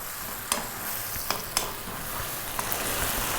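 A spoon stirs cream sauce with grated Parmesan in a pan on the heat, a steady soft sizzle under a few sharp scrapes and clinks, close and with no talk.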